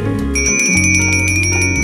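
A bicycle bell rings repeatedly in quick succession, bright and close, steady through the whole moment with a low hum underneath.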